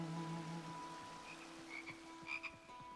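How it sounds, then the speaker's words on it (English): Frogs croak in the video game Skyrim with the Lorerim mod, near a riverside village. Scattered, irregular croaks sound at moderate distance over a faint steady hum, with no voices. "You can hear frogs"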